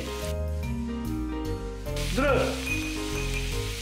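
Vegetables for ratatouille hit a hot pan and sizzle loudly, a bright crackling hiss with stirring, close and under music.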